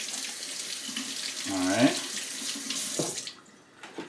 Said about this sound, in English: I'm gonna first rinse the pepper off.